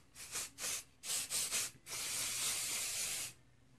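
Several short bursts of hair spray hiss close by as it is sprayed all over a pixie cut, followed by one longer continuous spray, then quiet.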